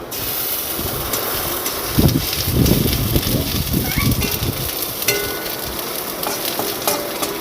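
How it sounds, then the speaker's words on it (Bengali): Ginger paste frying with browned onions in a pan gives a loud, steady sizzle with stirring scrapes throughout, close and continuous, with no talk. "পেঁয়াজগুলো লাল লাল করে ভাজা হয়ে গেলে এর মধ্যে দেবো একটু"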